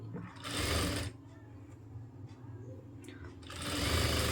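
A sewing machine stitches a blouse piece to its lining piece with a loud, rapid whirring run. It stops, goes quiet with only faint handling noise, then whirs again.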